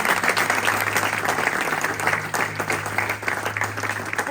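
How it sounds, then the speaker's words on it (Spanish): Congregation applauding during a Spanish-language church sermon, a steady, full wash of clapping throughout with a low hum underneath. "Yo creo que eso sí merecía de verdad un aplauso"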